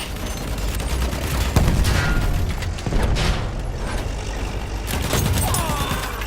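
Battlefield 1 tank rolling forward and reversing on a battlefield, a continuous heavy mechanical rumble with tracks clanking, under dense nearby gunfire bursts and scattered booms, loud throughout.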